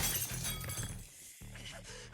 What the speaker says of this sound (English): My back shatters the window and I roll out into the yard.